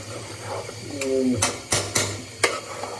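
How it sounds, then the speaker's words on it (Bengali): Rice being fried in a pot for beef biryani, a low sizzle under repeated sharp scrapes and knocks of a spoon against the pot, with a brief squeak in between. "এখন আমরা চালটা ভাজা ভাজা করে নিচ্ছি।"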